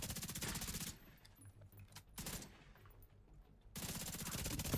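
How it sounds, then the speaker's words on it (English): Automatic gunfire from The Division 2 as body shots go into an enemy: loud, rapid bursts at the start, in the middle and at the end, with quieter game ambience between them. "we're just going to fire some body shots off for some extra weapon damage as well"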